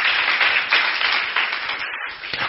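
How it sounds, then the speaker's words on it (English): A church congregation clapping hands together in praise, a dense, steady wash of many claps, loud and continuous with slight rhythmic swells. "Clap for God"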